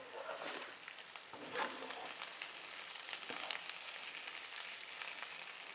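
Chicken dry fry sizzling in an uncovered pan, a continuous crackling hiss with occasional scrapes from stirring, moderately quiet and steady throughout.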